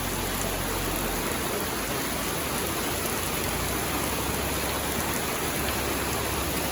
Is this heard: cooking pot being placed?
no